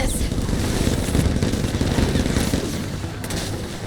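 Dense, continuous gunfire rattles through a chase sequence in the video game Split Fiction, a loud, unbroken stream of rapid shots with rumbling game effects and no clear pauses.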